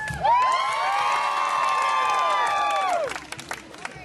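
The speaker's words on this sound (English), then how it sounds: "Audience cheer time. Watch the hands. Nice and loud." An audience at a mud show yells and whoops loudly together, holding a sustained crowd cheer of many overlapping voices for nearly three seconds before it breaks off and scattered voices and claps trail away.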